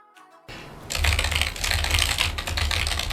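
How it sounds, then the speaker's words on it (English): Someone types on a Logitech MX Mechanical Mini for Mac, a plastic-bodied mechanical keyboard. The fast, continuous clacking of the keys starts after a short quiet lead-in. "So the first keyboard I have is a Logitech MX Mechanical Mini for Mac."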